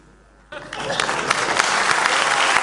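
Audience applause at a Chaos Communication Congress talk breaks out suddenly after a quiet moment and swells into steady, dense clapping from a large crowd.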